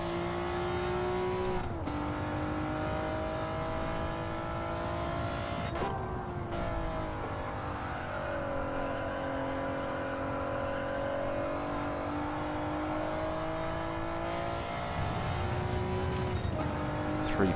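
Race car engine during a time trial, revving hard and steadily through gear changes, with pitch rising and dropping across several shifts, loud and close with no voices.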